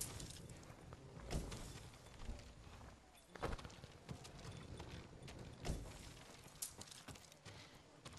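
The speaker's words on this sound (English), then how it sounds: "And they also get a new horse." Horse hooves walking in the video game Ghost of Tsushima, a faint, steady clip-clop of repeated footfalls under low background ambience.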